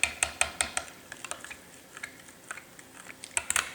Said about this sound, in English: I'm going to stir this up real good.